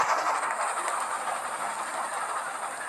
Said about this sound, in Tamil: அவனா ட்ரெயின் எடுத்துக்கிறான்.